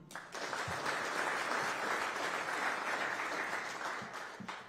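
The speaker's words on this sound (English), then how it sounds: "a round of applause for the Burwood Group" Steady applause from an audience at a city technology and innovation address in Aurora, a dense, even wash of clapping that holds for several seconds before easing slightly at the end.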